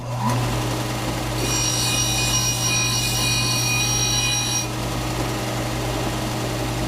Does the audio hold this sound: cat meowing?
no